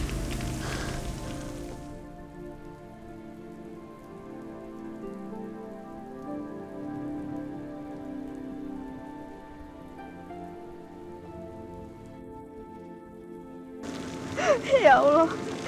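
Steady rain falling on a surface, a soft continuous patter at moderate distance that holds throughout, with brief louder stretches at the start and end where other sounds cut in.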